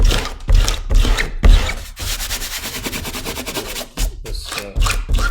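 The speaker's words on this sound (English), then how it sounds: "I'm going to take the masking fluid off using this" Pickup eraser rubbed by hand over dry masking fluid on watercolor paper, giving close, dry scrubbing strokes in uneven bursts with short pauses between.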